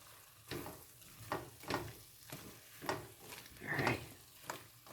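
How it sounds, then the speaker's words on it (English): A spoon stirs apple pie filling thickening in a pot, with repeated scraping and wet sizzling strokes in an irregular rhythm, close and moderately quiet. "And I want to stir, stir, stir. Constantly stir."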